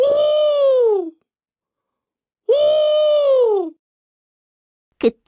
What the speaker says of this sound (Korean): 어디선가 올빼미의 울음소리가 들리더니